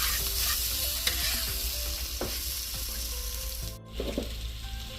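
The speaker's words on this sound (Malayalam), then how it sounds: "ഇങ്ങനെ ഈ അടിവശം എപ്പോഴും നമ്മളിങ്ങനെ ഇളക്കി കൊടുക്കണം" Venison fries and sizzles in a pan while a utensil stirs and scrapes the bottom, with clinks and a brief pause before the stirring resumes.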